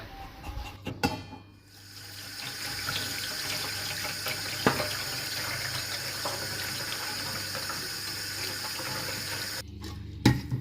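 Tap water runs in a steady, close rush while fermented fish (pla ra) from a jar is washed beneath it. Clunks and handling knocks come at the start and again as the flow stops near the end.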